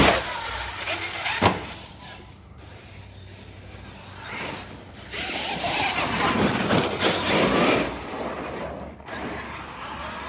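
A Traxxas X-Maxx RC monster truck with a new stock motor runs outdoors, its motor whining and surging in loud bursts with gaps and a few sharp bangs as it drives and lands.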